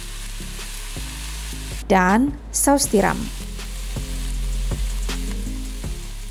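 Loud sizzling and frying as soy sauce is poured around the edge of a hot wok, bursting up sharply as the liquid hits the metal, with brief speech at the start.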